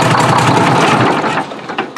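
An engine starts promptly and runs after a fuel line check valve was installed, a loud steady roar filling a brief moment with no voices.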